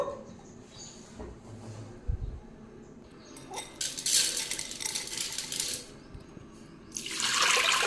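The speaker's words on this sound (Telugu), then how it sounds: "ఇప్పుడు వాటర్ పోస్తున్నాను." Water poured into a pressure cooker holding toor dal, with soft splashing bursts and a couple of metallic clinks, quiet and close, with no speech.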